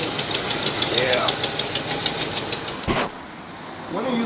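A 1964 Chevrolet Impala engine runs steadily with a rapid ticking exhaust manifold leak, close and loud, with voices talking over it before the engine sound cuts out briefly near the end.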